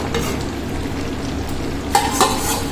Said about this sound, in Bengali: আমি গ্যাসটাকে সিম করে কিন্তু খুব সুন্দরভাবে এটাকে কষিয়ে নিচ্ছি